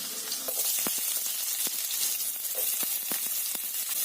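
Finely chopped garlic, five cloves, and two large finely chopped onions sizzle steadily in about three spoons of hot oil, a dense continuous frying hiss broken by sharp crackling pops and spits, close and without any talking.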